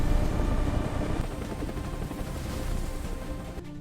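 A helicopter flies in a documentary sound effect, a loud continuous rotor roar with fast thudding texture that eases slightly over a few seconds before cutting off.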